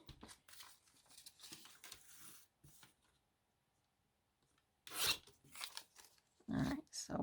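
Scissors snip through paper for a crossword puzzle collage, making quiet, crisp rasping cuts in short bursts, then a silent pause before a few louder snips and rustles up close.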